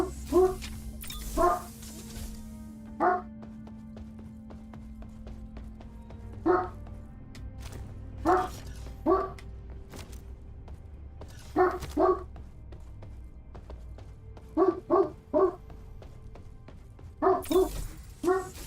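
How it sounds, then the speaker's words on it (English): A dog barking in bursts of two or three loud barks with pauses between, fairly close, over quiet background game sound. "Sorry about the dog, guys."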